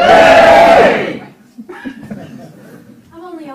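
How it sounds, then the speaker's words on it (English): An audience at an improv comedy show lets out a short, loud burst of cheering and whooping that lasts about a second and then drops away, after which a single voice speaks quietly. "We're going to do the cheering thing"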